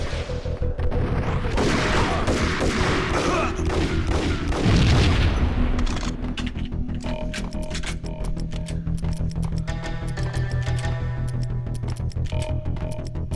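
A grenade blast and bursts of gunfire in the video game Max Payne: a heavy boom amid rapid shots, followed by scattered sharper gunshots and mechanical clicks, with no talking.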